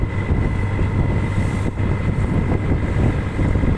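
Steady, loud wash of sea waves and wind around a fishing boat off Cirebon, with a low engine-like rumble underneath throughout, no voices.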